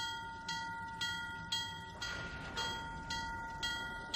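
A locomotive backs up to push the last two boxcars into place for unloading in the Trainz 2019 railroad simulator on a C&O line. Faint, evenly spaced clicks repeat about twice a second, with a brief hissing burst midway.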